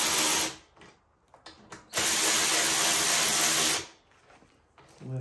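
A power tool, likely a drill or driver, snugs handlebar bracket bolts on an Amazon-bought four-wheeler, running in two loud bursts with short quiet gaps and a few light clicks between them.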